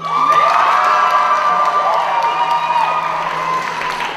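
A convention crowd at an in-character cosplay event claps and cheers loudly, a sustained wash of whoops, shouts and applause that holds steady throughout.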